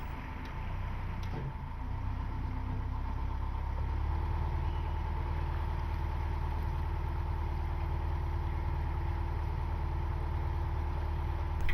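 A boat engine idles at a river quay, a steady low mechanical drone with a faint hum that runs unbroken and fairly close.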